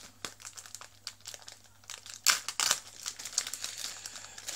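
A box cutter slicing open plastic packaging for a Spider-Man mask and gloves set, close crinkling and tearing crackles in irregular bursts, louder rips in the middle, with no talking.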